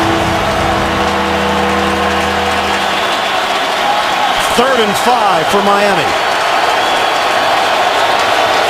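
Stadium crowd roaring at an NFL game between the Miami Dolphins and Indianapolis Colts, a steady loud wash of cheering throughout while a commentator talks over it.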